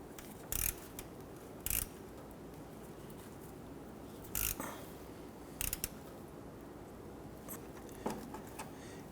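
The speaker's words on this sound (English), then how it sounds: "I am using a 1/4 inch ratchet and socket to get in there." A 1/4 inch ratchet and socket working a 10mm radiator bolt on a 2006-2014 Honda Ridgeline, heard close and quiet as five short bursts of clicking spread over several seconds, with no talking.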